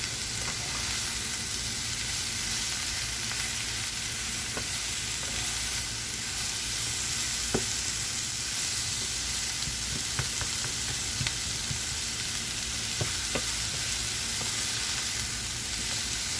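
Mushrooms, onions and peppers fry together in a crowded pan, giving a loud, unbroken sizzle and crackle with occasional small pops and stirring scrapes throughout, with no voices.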